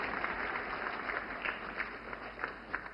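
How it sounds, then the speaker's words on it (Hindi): Sustained, fairly faint applause from a crowd at a women's empowerment programme event, continuous clapping welcoming a guest to the stage, with no talking. "जोरदार तालियों से स्वागत करें हमारी गंगा सागर दीदी का"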